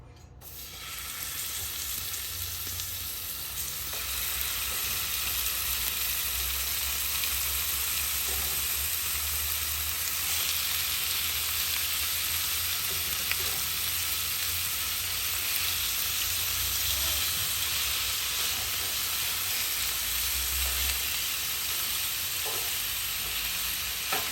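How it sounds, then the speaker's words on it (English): Lamb chops frying in oil in a pan, a steady loud sizzle with crackling pops throughout, no voices. "Right away, we just add a little bit of oil and start to add the lamb chop."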